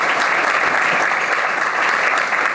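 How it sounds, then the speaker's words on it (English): A dense round of applause from a seated audience at a legislative event honoring Representative Kelly Cassidy, steady and loud throughout with no voices over it. "let's give her a round of applause."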